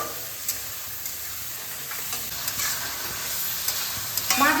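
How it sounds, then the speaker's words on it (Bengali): Prawns frying in hot oil on high flame give a dense, steady hiss of sizzling, close and loud, with a few faint stirring clicks and no voices. "আমি হাই ফ্লেমে কুড়ি থেকে পঁচিশ সেকেন্ড এই মাছটাকে চিংড়ি মাছটাকে ভেজে নেব"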